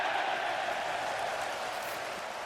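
Cricket crowd applauding Flintoff's first century against Australia, a steady broadband patter of clapping from a large distant stadium audience, sustained at a moderate level throughout.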